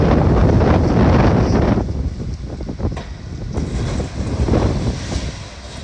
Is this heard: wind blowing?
yes